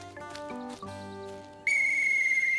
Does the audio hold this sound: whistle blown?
yes